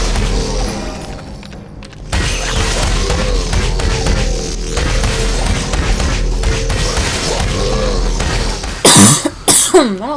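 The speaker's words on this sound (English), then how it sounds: "I don't know why I'm coughing so much." Coughing during a Legend of Spyro: The Eternal Night play session, a dense run of loud, close, rough bursts over game sound, with sharper harsh coughs clustered near the end.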